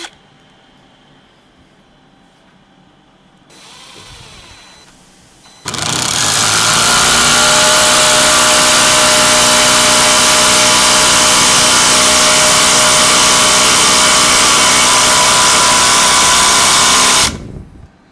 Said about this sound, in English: we're gonna just do some standard screw driving. So, here's a 4-inch screw.